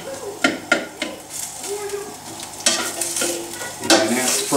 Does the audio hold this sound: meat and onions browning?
yes